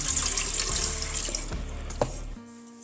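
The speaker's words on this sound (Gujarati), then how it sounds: "તેમાં આપણે પાણી ઉમેરી દઈશું" Water pours steadily into a pot on the stove while instant khatta dhokla is being made. A continuous splashing stream runs for about two seconds and then stops abruptly.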